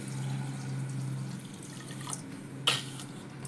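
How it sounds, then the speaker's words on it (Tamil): Fresh water is poured quietly over soaked fenugreek seeds in a kitchen, a faint trickle over low hum with one brief, sharper splash near the end. "இப்போ நல்ல தண்ணி ஊற்றி"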